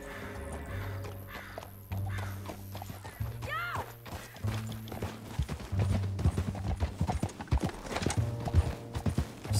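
Horse hooves clip-clop at a steady walking rhythm in Red Dead Redemption 2, close and fairly loud, with a whinny and game music underneath and occasional speech mixed in.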